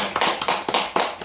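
Clapping from a church congregation at a Sunday worship service, with several bursts of hand claps close together in a short stretch.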